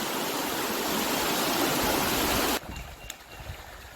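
Travertine Creek in Chickasaw National Recreation Area rushes loudly and steadily nearby for over two seconds, then cuts off to quieter outdoor ambience.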